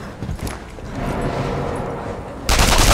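Sniper rifle shot in the video game Sniper Elite 3, a single loud, sharp blast bursting in near the end after a stretch of low game ambience and rumble.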